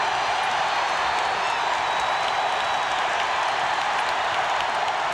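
Dense crowd roar fills an arena at a 2000 Duke vs North Carolina college basketball game, a steady, loud wash of cheering and applause that holds for the whole stretch with no break.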